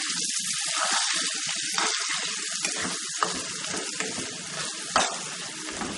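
Prawns sizzle in a pan with curry leaves while being stirred, giving a loud, dense crackling hiss with scraping bursts and a couple of sharp clinks, with no voices.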